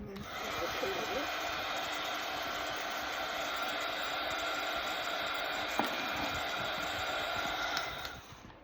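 A hair dryer blows steadily to dry paint on a craft project, a dense, even whoosh close by that holds for about eight seconds before cutting off.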